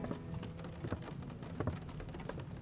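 Steady rain patters across the clip, dense and moderately close, with small irregular drop bursts and no voices.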